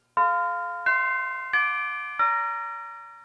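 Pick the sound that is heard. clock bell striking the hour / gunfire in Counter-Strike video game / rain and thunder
clock bell striking the hour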